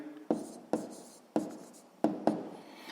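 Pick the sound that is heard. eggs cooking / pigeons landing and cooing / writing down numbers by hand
writing down numbers by hand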